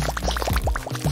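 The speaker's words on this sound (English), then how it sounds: "Now I need to pour it somewhere." A liquid mixture being poured, short quick glugs and splashes repeating in a rapid rhythm, close and moderately loud.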